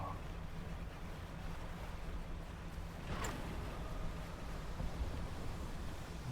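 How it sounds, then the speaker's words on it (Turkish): Open-ocean waves in the fishing game Dredge wash in a steady, even roar with no voices, and a brief splashing surge rises around the middle. "Bu okyanusun ortası lan bura."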